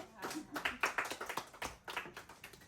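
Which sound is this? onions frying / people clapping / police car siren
people clapping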